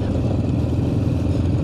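A steady mid-pitched engine drone with a rough, rattling texture from a small Honda Pop motorcycle cruising along a dusty Amazon road, continuous and close.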